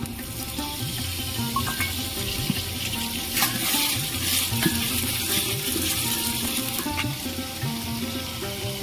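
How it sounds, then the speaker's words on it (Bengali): Chopped tomatoes go into a pan of onions already fried deep red, giving a steady, moderately quiet sizzle and hiss of frying for a mutton curry, with no voices over it. "এবার আমি টমেটো কুচি দিয়ে দেবো,"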